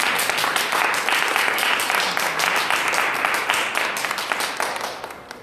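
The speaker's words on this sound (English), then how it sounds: "Can we give it a round of applause?" A crowd at a gathering about court and child-services corruption breaks into hearty, dense clapping that holds steady for several seconds before gradually tapering off.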